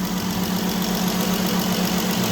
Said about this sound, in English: Alright, we got the engine running now.